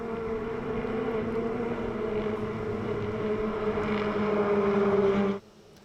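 Ferrari Challenge race cars of 670-plus horsepower plunge downhill toward the esses at COTA, a steady loud engine drone with sustained tonal whine building slightly before cutting off abruptly near the end.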